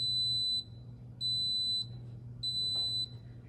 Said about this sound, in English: You heard the 3 beeps, and now it says add across the front of the panel.